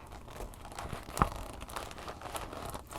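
Quiet, close crinkling of thick, stiff plastic, with soft irregular crackles and one sharper crunch partway through.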